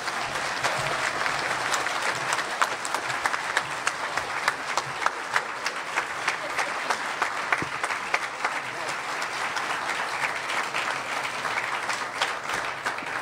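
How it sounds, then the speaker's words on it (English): Sustained applause from a town hall audience thanking a panel, dense steady clapping filling the room for over ten seconds with no break. "Let's give our panel one more round of applause"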